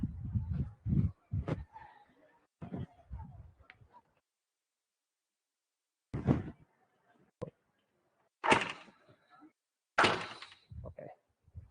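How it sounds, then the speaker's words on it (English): A classroom door being shut during a lecture, several thumps and knocks of handling and a firm closing bang, with people speaking in the room around it. "I will just close the door"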